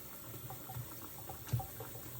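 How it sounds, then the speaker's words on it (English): Hot water runs from a kitchen tap into a sink, a soft, faint steady trickle with one brief splash partway through and no talking. "Then I keep the hot water on and flush it down the sink."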